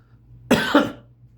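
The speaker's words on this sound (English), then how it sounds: "that was a bad cough" A single harsh cough in two quick bursts, close and fairly loud, with a faint low hum beneath and quiet before and after.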